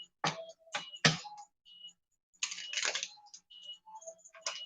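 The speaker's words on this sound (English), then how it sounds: "Let me shuffle some more." Tarot cards are shuffled up close in a quiet room, a few quick riffling and slapping bursts separated by short pauses, crisp papery flicks with no voices.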